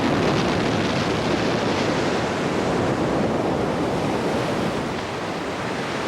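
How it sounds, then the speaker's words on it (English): Storm surge waves rushing up a coastline during the March 1993 superstorm on the US eastern seaboard, a dense, steady roar of surf and wind that stays loud and unbroken from start to finish. "the water is rushing up now and because they know it will get much worse"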